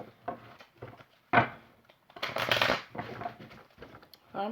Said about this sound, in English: So yes, one more shuffle.